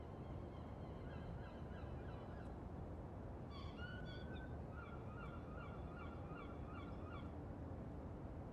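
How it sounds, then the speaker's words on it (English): Seagulls in the Schedule 1 video game give repeated short, high cries in a few bursts over a steady ambient background, moderately loud, with no talking. "We can listen to the seagulls together,"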